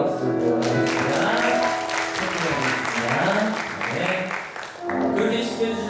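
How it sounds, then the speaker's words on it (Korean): Church congregation at a Sunday worship service clapping together in a sustained burst of applause, with music and singing voices running underneath. "하나님께 영광의 박수를 드리겠습니다"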